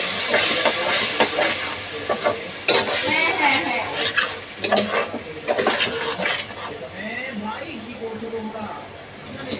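Spice paste for chicken curry frying with ginger and garlic in a pan, loud continuous sizzling with repeated scraping and clinking of a spoon as it is stirred, under occasional talking.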